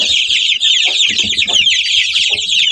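A flock of chicks more than three weeks old, hatched by a Kuchin hen, keeps up a dense, close chorus of high peeping with soft low clucks underneath.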